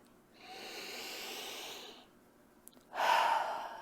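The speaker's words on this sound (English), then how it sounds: "Big deep breath." Two slow, deep breaths during a guided tapping exercise: a long, soft airy inhale followed a moment later by a louder, fuller exhale, close and alone with no talking.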